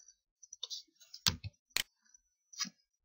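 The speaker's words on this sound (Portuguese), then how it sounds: "Dei 2 cliques aqui em anexo." Sharp computer mouse clicks, including a quick double click, while working in Microsoft Access 2010 on a quiet desk, the clicks close and crisp with short gaps between them.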